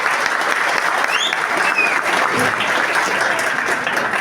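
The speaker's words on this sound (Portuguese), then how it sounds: "eu queria uma salva de palmas para as meninas que deram o show aqui" An audience at a spiritist gathering applauds the singers, giving a loud, even ovation of many hands that holds steady throughout with no talk over it.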